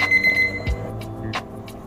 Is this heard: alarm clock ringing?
yes